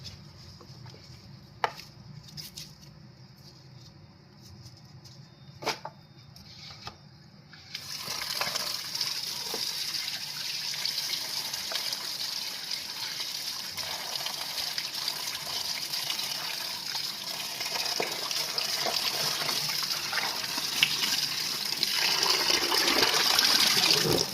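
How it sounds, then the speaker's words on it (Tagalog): Taro leaves are washed under running water: a few sparse knocks and clicks at first, then a tap gushes on, and a steady close splash continues to the end. "hugasan muna natin yung na bili natin na dahon ng gabi"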